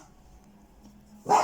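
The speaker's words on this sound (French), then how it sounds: "Ah, excusez-moi, c'est mon chien." A dog gives a single short, sharp bark close by at the very end, after a second of near-quiet room sound.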